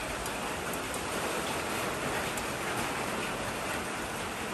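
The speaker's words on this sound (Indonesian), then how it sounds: "rezeki-rezeki ini hujan" Steady rain falls outdoors during the installation of a 300W solar spotlight, a dense, even hiss of drops on surfaces that stays constant and fairly loud throughout with no talk.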